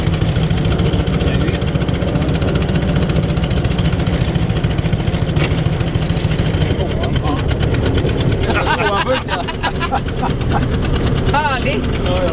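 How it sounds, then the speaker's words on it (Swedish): The engine of a 95-year-old car idles loudly nearby with a rough, rhythmic chugging that stays steady throughout, while people talk over it. "vi ska väl försöka få motorn att gå lite bättre än vad den gjorde"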